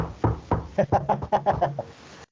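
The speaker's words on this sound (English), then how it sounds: "knock on some wood" Several knocks on wood in a quick, uneven run of about a dozen raps, close and fairly loud, with no voices over them.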